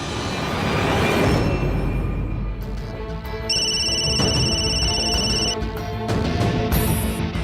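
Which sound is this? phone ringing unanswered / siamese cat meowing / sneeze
phone ringing unanswered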